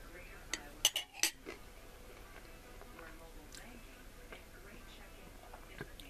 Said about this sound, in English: You'll have to use a fork and knife.